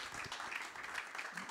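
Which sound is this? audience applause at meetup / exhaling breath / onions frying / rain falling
audience applause at meetup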